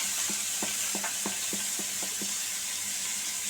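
Chopped bottle gourd peel sizzles steadily in a hot pan with fried onions, while a spatula scrapes and stirs in a quick, regular rhythm of about eight strokes, close and clear with no talking.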